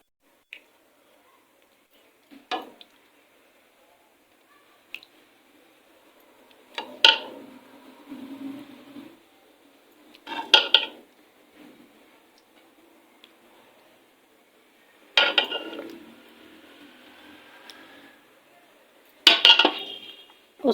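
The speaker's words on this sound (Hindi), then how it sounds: "तो इसको अब मैं बर्तन में भी निकालती हूँ।" Metal utensils clink and tap against pots as cooked moong dal is served into a pot, with sparse scattered knocks and longer clattering bursts.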